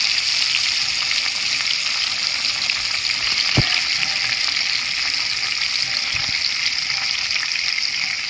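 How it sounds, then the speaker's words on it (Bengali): Rohu fish frying in hot oil in a wok gives a steady, loud sizzle with even crackle throughout and one brief low knock partway through. "কড়াইয়ের তেল গরম হয়ে গেছে"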